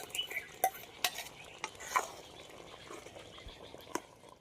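A spoon stirs chillies, onions and tomato gravy into mixed vegetables in a pan for a Gujarati stuffed panchkutiyu curry, giving soft scraping and a few sharp metallic clinks near the start, then quieter stirring.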